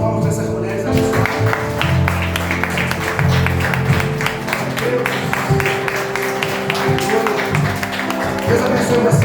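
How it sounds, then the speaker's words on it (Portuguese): A church congregation claps for the women, dense steady applause lasting throughout, mixed with music and voices. "Os homens, uma salva de palmas para essas mulheres abençoadas."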